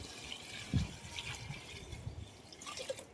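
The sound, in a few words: water being added to cooking chicken biryani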